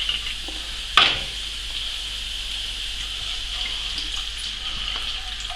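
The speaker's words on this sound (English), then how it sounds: "And then I'm going to pour in some of the old Rough Rider." Rough Rider cider is poured into a hot pan already holding thyme, while pigeon breasts are being cooked. It starts with a sharp splash, then a steady hiss and liquid bubbling continue close by without any talking.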